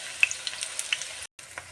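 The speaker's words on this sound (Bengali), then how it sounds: "এরকম করে উল্টে উল্টে লাল করে ভেজে দিতে হবে" Pea-filled pan palong fritters frying in hot oil, a steady soft sizzle with light crackles and small pops throughout, close and moderately quiet, with a brief moment of silence near the end.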